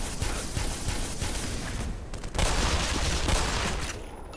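Enemy gunfire in the video game Black Mesa, a rapid, dense volley of shots, sustained and rattling, briefly thinning then surging louder again, fairly quiet overall.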